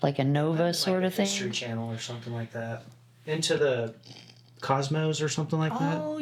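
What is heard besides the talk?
No everyday noises stand out.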